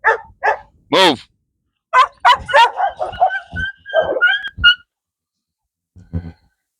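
Several dogs bark, yip and whimper while playing rough together, close and loud. The bursts come in quick clusters with short gaps, then fall silent before a final faint yelp.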